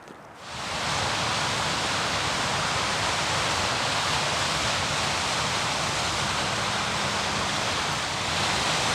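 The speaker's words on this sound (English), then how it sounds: "That waterfall right there spills out of the lake that I'll be camping at tonight." A waterfall spills out of a mountain lake among boulder fields. Its dense, even roar swells in within the first second and then holds steady and loud, with no voices over it.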